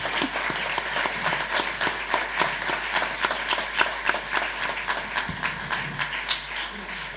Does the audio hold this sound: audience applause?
yes